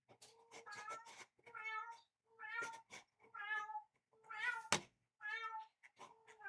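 A pet cat meows repeatedly in a quiet room, about eight distinct close calls in an irregular rhythm, with one louder, sharper cry near the end and no talk over them.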